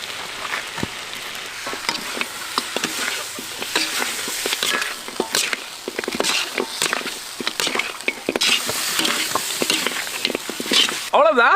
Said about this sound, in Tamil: இப்ப 10 கிராம் ஜீரகத்தூள், 10 கிராம் மிளகுத்தூள் இதுங்களை போட்டு கிளறி இறக்கிடலாம்.